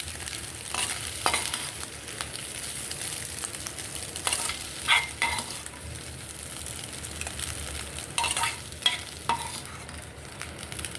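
Food fries in oil in a pan for egg fried rice, a constant close sizzle punctuated by repeated spatula scrapes and stirring taps, with no voices.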